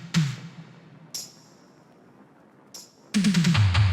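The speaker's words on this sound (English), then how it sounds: "Then I'm going to add the shaker." A programmed shaker in FL Studio adds short, bright rattling hits spaced across the bar over a low drum thump, then a quick flurry of accents as the beat thickens.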